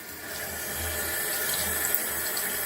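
Tap water runs steadily into a sink for handwashing, a loud continuous hiss with no talk over it.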